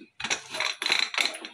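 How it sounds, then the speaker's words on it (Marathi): A pressure cooker lid is closed in a kitchen with a few close metallic clicks and a ratcheting scrape as the lid is twisted and locked into place. "कुकर बंद करते"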